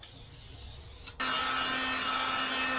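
Tint is sprayed from a can onto a Dodge RAM tail light: a short hiss, then a steady, close, loud aerosol spray held to the end.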